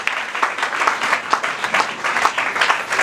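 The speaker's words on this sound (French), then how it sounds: "tu peux acclamer le Seigneur très fort" A church congregation at a Sunday service applauds with steady, loud clapping from many hands, a continuous rhythmic wash close by, with no voices standing out.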